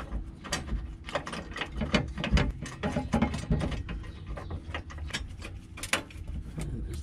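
Ratchet wrench clicking as it tightens the bottom bolts of a Rough Country bull bar on a 2020 Ram 1500, irregular bursts of sharp close clicks with metallic handling between strokes and no talk.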